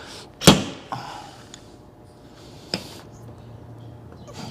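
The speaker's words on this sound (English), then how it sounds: "And then you slide hammer it." Slide hammer yanking on a dent puller stuck to a dented car fender: one sharp, loud metallic impact, then a smaller knock a few seconds later, with quiet in between.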